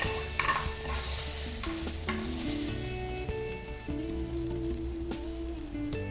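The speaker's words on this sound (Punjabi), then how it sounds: "ਇਹਨੂੰ ਹਲਕਾ ਜਿਹਾ ਜਿਹੜਾ ਲਸਣ ਦਾ ਜਿਹੜਾ ਤੜਕਾ ਲਗਾਇਆ ਹੈ" A garlic tempering for tiranga rice sizzles loudly in a pan, a dense crackling hiss with steady stirring and scraping throughout. Faint tonal background sound sits underneath.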